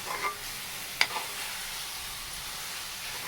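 Raw mango katta meeta is stirred and mixed in a pan with a continuous sizzling hiss, broken by a sharp clink of the utensil near the one-second point.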